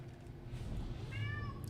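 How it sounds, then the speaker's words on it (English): A cat meows a few times in quick succession, fairly close but not loud, over a steady low hum of background noise. "The kitty queen has spoken, and she says no."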